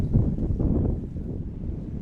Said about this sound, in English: you can probably hear the wind picking up as a storm rolls in.